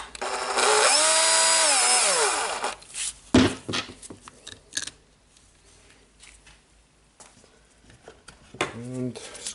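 A cordless Makita DDF343 14.4V Li-ion drill runs loud for about two seconds during a chuck replacement, its whine rising and falling, followed by clanks of handling, a brief second burst near the end, and some talk.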